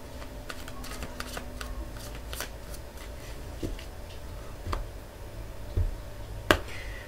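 Tarot cards are shuffled by hand in soft, irregular riffles and taps, with a few sharper snaps of cards against each other, close and fairly quiet.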